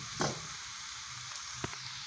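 Noodles frying in a pan with egg give off a faint, steady sizzling hiss, broken by a couple of brief clinks or stirring touches.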